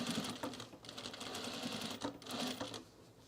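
A sewing machine stitches in the ditch along a seam on trousers, a steady rapid whir near and loud, easing briefly twice before running on.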